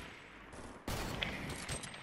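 A video game gunshot cracks out in a building-and-shooting battle royale match and rings through the mix with sustained noisy firing afterward, no voices heard.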